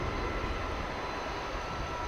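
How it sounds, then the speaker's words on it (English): A Boeing 737-800 airliner arriving from West Palm Beach at DFW Airport produces a steady, moderately distant engine rumble and roar, continuous and even with no speech over it. "There's a 737-800 coming in from West Palm Beach."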